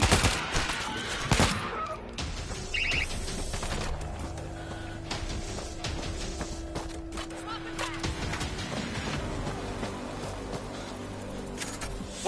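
Automated turret in World War Z fires steady bursts of gunfire through a battle in Rome, with dense overlapping shots, crashes and game noise throughout, and voices talking over the din.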